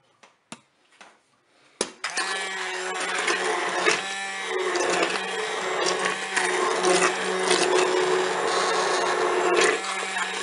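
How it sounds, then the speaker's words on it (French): A Cookeo multicooker's blending starts after a few sharp knocks and clatters, then runs loud and steady for about eight seconds as soup is mixed right in the cooking bowl, with no talking. "Je vais pouvoir maintenant mixer directement dans la cuve de mon Cookéo."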